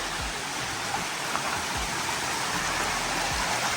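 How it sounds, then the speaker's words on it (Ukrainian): Water trickling and flowing inside a cold cave beside a lake, a steady broadband wash with a few faint low drip-like plops scattered through it, heard continuously at close range with no talking. "Вода капає."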